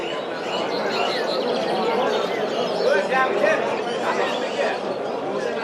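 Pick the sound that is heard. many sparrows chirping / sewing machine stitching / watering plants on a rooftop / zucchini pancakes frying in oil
many sparrows chirping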